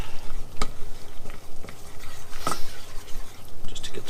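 A single clove of garlic stirred in butter in a pan for a spinach gratin, giving a steady soft sizzle with a few sharp clicks of the utensil against the pan.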